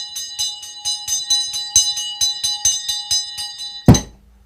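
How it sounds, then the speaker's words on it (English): A small ritual bell is rung about fifteen times in a steady, bright, rapid rhythm, close and clear, ending with a sharp knock before the sound cuts off. "With this ringing of this bell, we lift the veil twixt heaven and hell"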